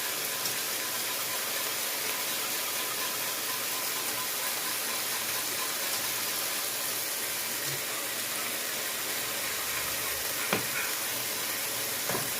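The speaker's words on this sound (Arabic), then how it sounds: "ومن كل نحركو لا بشاميل" Béchamel sauce being stirred in a pan for a spinach and chicken quiche, a steady soft scraping and bubbling hiss throughout, with a single brief clink near the end and no talking.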